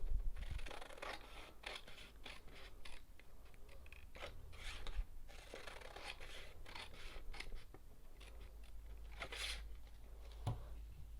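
Scissors snip through a paper sleeve pattern along its slash lines, with a quick run of crisp, close cuts repeating steadily and no talking.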